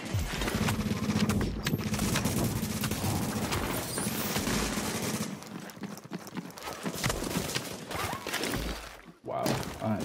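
Gunfire in a shooter game runs as dense, continuous rattling shots with bursts of impacts throughout and a brief break near the end.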